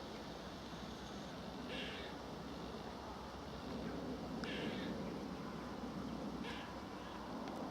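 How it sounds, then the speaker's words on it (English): Squirrels giving cat-like alarm calls in autumn woodland, three short faint chattering bursts from a distance over steady wind and outdoor rumble. "Squirrels have caught sight of me, hence the cat-like noise in the distance."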